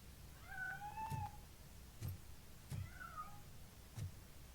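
Cat in RoboCop: Rogue City gives two drawn-out, rising-and-falling meows about two seconds apart, mid-distance, alone over a low rumbling game ambience with a few dull thumps.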